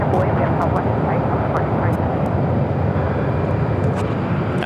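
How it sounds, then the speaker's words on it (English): American Airlines Airbus A321neo jet taking off at Phoenix Sky Harbor airport, a loud continuous engine roar with faint voices intermittently in the background. "American Airlines Flight 2476, A321 Neo"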